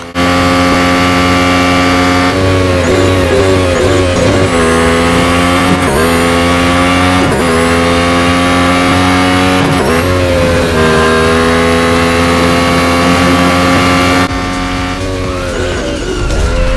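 A race car engine in the Real Racing 3 mobile game roars loudly, revving up through repeated gear shifts with rising and dropping pitch and a brief tire squeal, with no talking.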